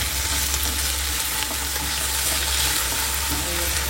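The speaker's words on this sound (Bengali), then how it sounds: "এদিকে আমি আলু ভাজা বসিয়ে দিয়েছি" Potatoes frying in a pan in a home kitchen give a steady, close sizzle that hisses continuously and evenly throughout, with no talking over it.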